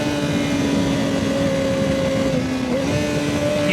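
Motorcycle on Road 6 tyres in Belfast, engine running steadily with a sustained droning note that drops in pitch partway through as it downshifts, loud and close, no voices.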